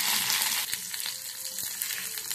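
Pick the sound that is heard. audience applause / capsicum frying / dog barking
capsicum frying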